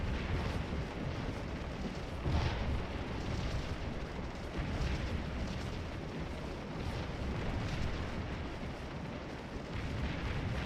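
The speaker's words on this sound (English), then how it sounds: "Getting nailed by cannon shot and canister fire." Cannon shot and canister fire in the Napoleonic battle game Scourge of War, a continuous rumbling wash of distant booms and bursts with no clear individual shots, no voices.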